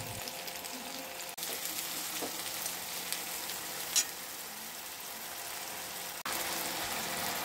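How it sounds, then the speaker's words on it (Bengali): Chopped onions fry in a pan with a little butter for a Bengali street-style ghugni, a soft steady sizzle with faint stirring scrapes and a couple of brief clicks. "পেঁয়াজ কুচিগুলো ভালো করে লাল লাল করে ভেজে নিতে হবে। এবার এটাতে অল্প পরিমাণ বাটার অ্যাড করে দিতে হবে।"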